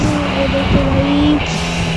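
Mahindra Thar engine pulling steadily off-road, a loud continuous drone with harmonic tones that drop and shift as it changes gears, close to the microphone.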